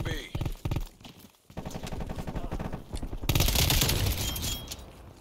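Gunfire in Black Ops Cold War on the Nuketown map: a few separate sharp shots, then fast automatic bursts that thicken into loud sustained firing, with a voice talking over part of it.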